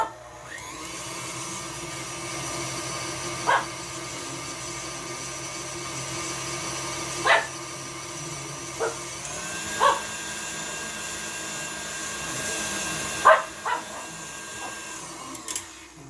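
An electric mixer with a whisk attachment beats brownie batter in a home kitchen. It gives a steady, moderately loud motor whir with several short clatters of the whisk against the bowl, and no talk.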